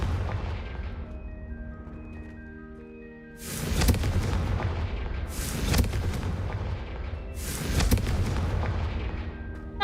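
In Hogwarts Legacy, the Confringo fire spell is cast three times at braziers, each cast a loud, booming burst that decays slowly, spaced a couple of seconds apart over a low rumbling background.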